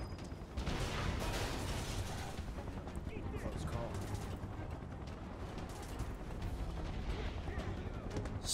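Soldiers' gunfire in the video game Final Fantasy VII Remake: dense, continuous rattling shots and mechanical clatter filling the whole stretch at steady loudness, with voices talking over the battle.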